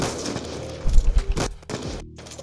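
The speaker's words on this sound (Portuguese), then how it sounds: "Atirei o boneco." A sniper rifle shot fires in Black Ops 2, a loud sharp blast with a low boom, followed by a couple of further impacts and abrupt cutoffs.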